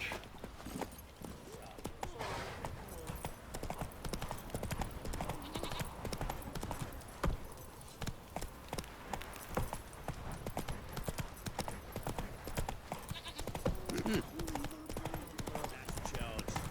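Roach, Geralt's horse in The Witcher 3, trots with a continuous, even clip-clop of hooves close by, a few faint snorts mixed in.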